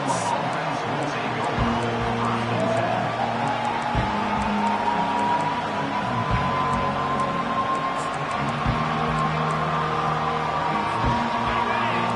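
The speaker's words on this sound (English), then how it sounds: "This crowd bringing an ear-splitting welcome to their visitors" Football stadium crowd at an NCAA game roaring steadily for the whole stretch, a loud, continuous wall of cheering with no break.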